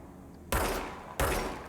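Two heavy gunshots at a shooting range in the video game Control, each a loud booming crack with a decaying tail, about seven tenths of a second apart.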